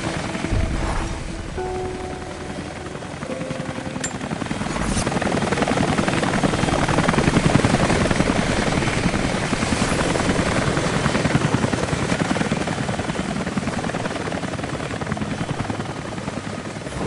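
A helicopter in the video game Rise of the Tomb Raider gives off a steady, loud rotor drone. It swells and ebbs slowly across seventeen seconds, with no voices over it.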